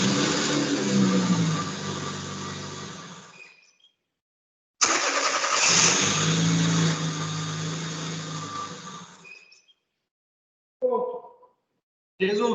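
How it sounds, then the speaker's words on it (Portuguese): A car engine cranks in two long bursts of several seconds each, a steady grinding churn that never catches into running, close and loud, followed by short clicks and a brief restart of cranking at the end. "Agora a central de injeção ela vai entender que eu estou tentando fazer o motor entrar em funcionamento."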